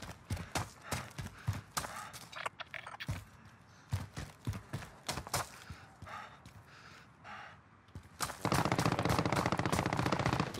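Rapid gunfire from Call of Duty Warzone, loud bursts and single shots cracking in quick succession, ending in a sustained dense volley of automatic fire.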